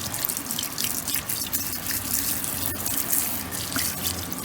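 Running water splashes steadily over a car wheel being washed, a constant hiss with scattered drips and spatter, close up and alone.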